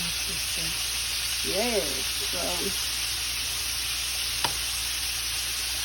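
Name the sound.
chicken frying in a skillet or wok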